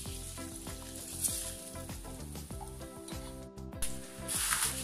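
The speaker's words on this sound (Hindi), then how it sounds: "और हम ये तड़का इसमें डालेंगे।" Hot tadka tempering sizzles and fries steadily as it is poured into poha chivda, with the flame switched off, for a homemade Diwali snack; the crackle stays close and continuous throughout, over a faint tonal background.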